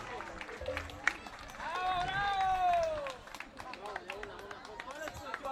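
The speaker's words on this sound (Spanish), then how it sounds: "Bueno, ¿qué pasa con ese aplauso?" An audience in the La Cascada sports hall applauds after a tuna group's potpourri of "La Bruja", a continuous crackle of many hands that carries on beneath a loud, drawn-out voice and crowd chatter.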